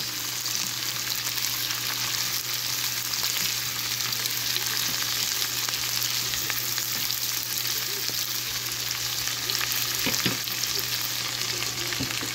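Steady, loud sizzle of cabbage frying in a pan for Filipino-style instant noodles, a continuous close crackle with a few brief stirring knocks and no talking.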